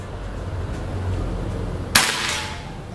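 A single sharp shot from an upgraded PCP Predator air rifle at a target cracks out near the two-second mark, standing clearly above a low steady background hum.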